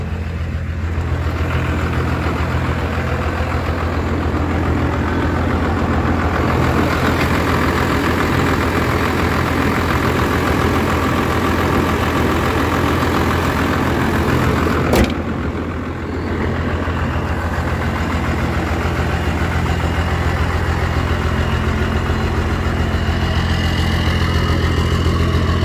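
A 1994 Dodge Ram pickup truck idles steadily with a loud, close, even engine rumble and a deep low throb that holds for the whole stretch, with a brief click partway through and no voices.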